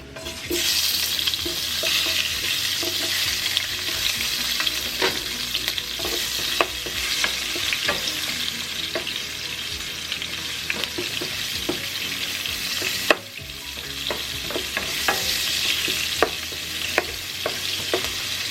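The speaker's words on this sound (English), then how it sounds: "we have our grease there. We're gonna add some onion." Onions go into hot grease for smothered pork chops and fry with a steady, loud sizzle, broken by the sharp scrapes and clacks of stirring, with one louder splash-like hit partway through; no one speaks.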